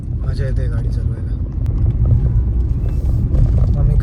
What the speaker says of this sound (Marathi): मजा येते गाडी चालवायला.